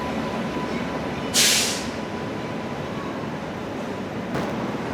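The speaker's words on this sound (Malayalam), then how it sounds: "വിജയവാഡ ഷെഡിന് ലോക്കമാണ് 39096. ഇതാണ് പ്രശാന്തി എക്സ്പ്രസ്" The Prasanthi Express from KSR Bengaluru to Bhubaneswar, hauled by Vijayawada shed locomotive 39096, rumbles past as a steady broad roar of running rail traffic, with a sharp hissing burst early on and a faint clank later.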